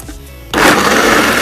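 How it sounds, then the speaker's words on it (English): A kitchen blender starts up suddenly partway through and runs loud and steady, whirring as it blends soaked almonds with water and honey into almond milk. "We cover back the blender, and we press on."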